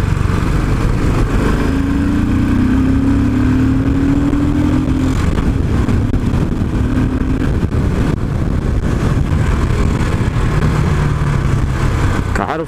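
Royal Enfield-style Continental GT motorcycle engine on a test ride, a steady low-revving drone with rising pitch under loud continuous wind and road rumble throughout.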